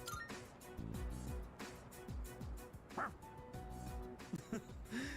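A dog in the video game Persona 3 Reload gives a run of short, yippy barks and whimpers over soft game music, at moderate volume.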